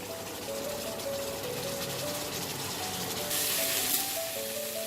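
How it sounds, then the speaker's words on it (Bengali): Spice paste with turmeric powder frying in oil for a Bengali rui fish curry, a steady soft sizzle with faint tonal sounds in the background and no talking. "হলুদ গুঁড়ো, মশলাটাকে আমি খুব ভালো করে কষাবো।"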